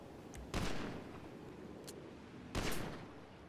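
Gunfire bursts in the video game GTA, two loud broadband blasts about two seconds apart with rocket-like booms and fainter shots between, over a steady noisy bed.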